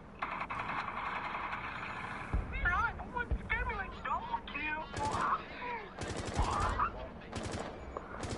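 Video game gunfire in bursts of sharp shots and rapid rattling volleys between quieter stretches, with players talking over the action.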